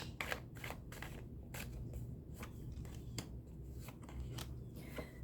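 Tarot cards are shuffled by hand in a quiet room, giving repeated soft riffling and flicking bursts at an uneven rhythm, faint and close.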